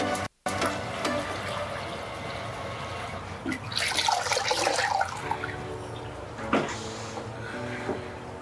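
Water running and splashing at a sink as face cleanser is rinsed off, a steady trickle with bursts of louder splashing, close and without talk.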